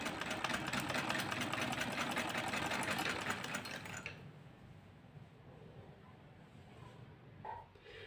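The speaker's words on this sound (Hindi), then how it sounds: "तो जी ये मैंने सिलाई लगाई है" Sewing machine stitching dupatta fabric, a steady fast mechanical whir running loud for about four seconds before stopping, leaving quiet room sound and a faint brief clunk afterward.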